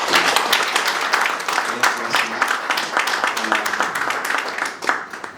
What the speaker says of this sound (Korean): 다시 한번 수고하신 우리 논문 발표하시는 교수님과 목사님께 박수 한번 드리십시오